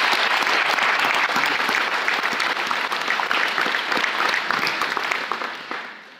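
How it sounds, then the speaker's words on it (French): A crowd applauding at a mayor's New Year wishes ceremony in Clairoix, sustained dense clapping from many hands at a steady level that fades out over the final second. "Et on peut applaudir aussi"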